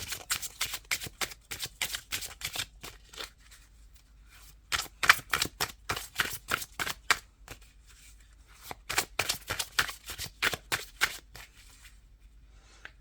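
Tarot deck shuffled in quick, crisp bursts of card flicks, close by, with a quiet pause between runs; the cards are shuffled and then drawn, with no voice.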